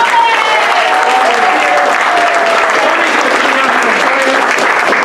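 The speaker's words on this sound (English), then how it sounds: "another round of applause for our friend Tommy" Sustained applause from an audience at an improv comedy show, loud and dense throughout, with a voice speaking faintly beneath the clapping.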